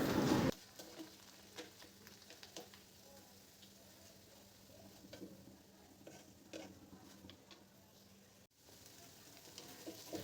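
Potato, eggplant and pointed gourd bhaji frying uncovered in a pan with a splash of water, giving a soft, steady sizzle with scattered stirring scrapes after a brief loud burst at the start.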